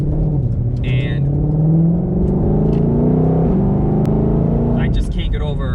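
A 2020 Ford Mustang Shelby GT500 in sport mode with sport exhaust, its engine note rising and falling through gears in a loud, close rumble heard from inside the car, with a shift break near the middle.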